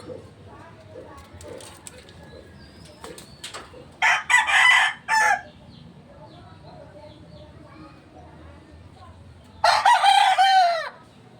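A rooster crows twice, loud and close, with a quiet stretch between the calls and faint background murmur.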